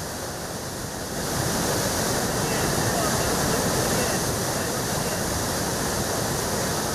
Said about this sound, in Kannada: ಡ್ಯಾಮ್ನ 10 ಗೇಟ್ ಮೂಲಕ ಹರಿತಾ ಇದೆ ನೀರು.